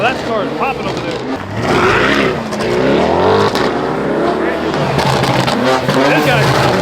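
Car revving at a car meet with exhaust popping, engine roars and crackles rising and falling amid crowd noise, with people talking and shouting over it close by.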